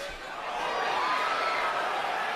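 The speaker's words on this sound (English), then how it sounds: "Crowd oohs and ahs as again Canelo lands the left." Boxing crowd at the Canelo Alvarez vs. Amir Khan fight letting out a sustained, broad ooh and aah, a dense wash of many voices in an arena.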